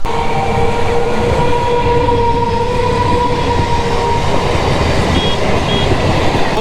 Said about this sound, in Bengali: বন্ধুরা এই যে যে ট্রেনটা এটা কিন্তু শিয়ালদা থেকে আসছে